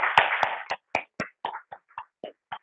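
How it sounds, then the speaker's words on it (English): A small audience gives a short round of applause at a fitness industry talk: a burst of overlapping claps that quickly thins into a few separate, spaced claps fading out. "give yourself a well-deserved round of applause"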